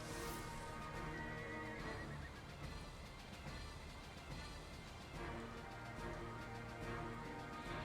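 A horse named Pip whinnies and neighs loudly and close, with a few hoof clip-clops mixed into the steady sound and no talking.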